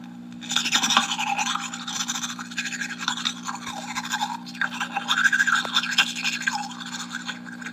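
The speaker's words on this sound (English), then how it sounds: "And someone brushing his teeth." A person brushes their teeth with rapid back-and-forth scrubbing strokes in two bursts separated by a short pause, close and alone over a low hum.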